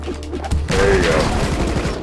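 Gunfire in the side-scrolling game Rocketbirds, opening with a few quick shots before a loud, sustained burst of rapid firing and impact noise that carries on to the end.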